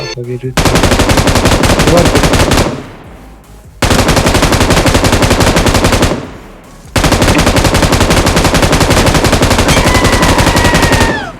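Loud bursts of rapid automatic video game gunfire, three long sustained volleys separated by short pauses, close and harsh with no talking over them.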